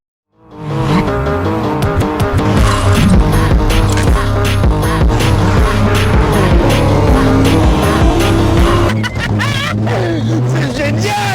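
A loud Mercedes-AMG C63 S engine revs and whines hard throughout as the car slides and skids in snow, pitch rising and falling, with a clatter near the end.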